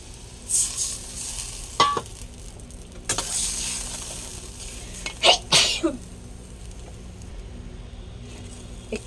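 Taro sizzling as a little water hits it in a frying pan, with a steady frying hiss and several sharp bursts of spitting and crackle through the middle, close and moderately loud, no talk.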